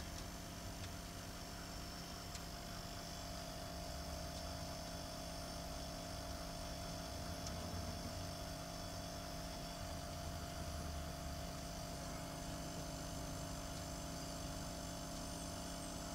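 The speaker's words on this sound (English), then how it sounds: "you can hear that the compressor is running." A Secop refrigeration compressor, part 101N0212, in a Frigoboat boat fridge runs with a faint, steady electrical hum and drone, constant throughout with no talking.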